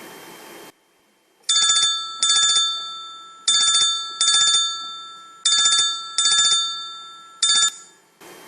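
A telephone rings in a Hindi stage play, sounding in repeated pairs of bright electronic trills separated by short gaps, loud and close, with no one speaking.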